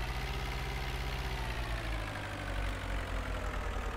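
A tractor engine idles in the video game Farming Simulator 2013, a steady low rhythmic chug with a continuous drone over it, close and constant throughout with no talk.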